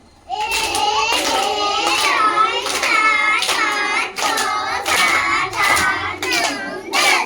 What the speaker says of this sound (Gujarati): ચલો દસ તાળી પાડ દો